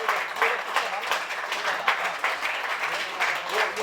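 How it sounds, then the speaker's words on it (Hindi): A crowd at a film trailer launch event applauds to welcome a guest, sustained dense clapping with steady rhythmic pulses, loud and continuous throughout. "जोरदार तालियों के साथ स्वागत।"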